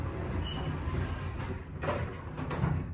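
York lift's automatic elevator doors slide shut with a steady mechanical rumble, close and continuous, ending in a couple of brief clunks.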